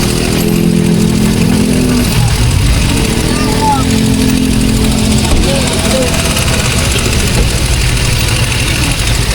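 An automatic car stuck in traffic on an uphill road, its hot engine running loud and steady with a rumbling, droning tone throughout, and voices talking over it.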